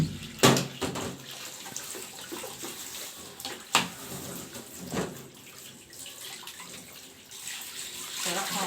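Running water from a tap splashes into a sink while cups are washed, with a few sharp clinks and bursts of louder splashing over a steady flow.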